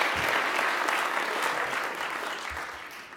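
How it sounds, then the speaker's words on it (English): Audience applause, a dense patter of clapping hands that is steady at first and then fades slightly. "A little more applause, a little more enthusiasm."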